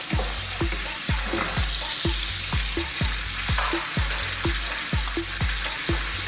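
Onions frying in a pan over medium-high heat, with a loud continuous sizzle and regular thumping stirs of a utensil against the pan.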